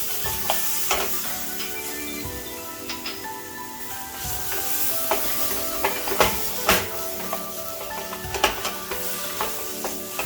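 Ginger garlic paste roasting in a pan for Konkani mutton rassa, a loud continuous sizzle and spatter close up, broken by frequent scrapes and taps of a spatula stirring it.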